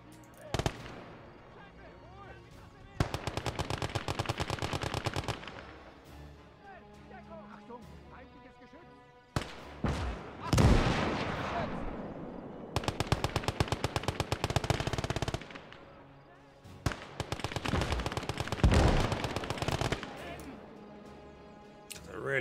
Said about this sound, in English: Entrenched over here with machine guns everywhere.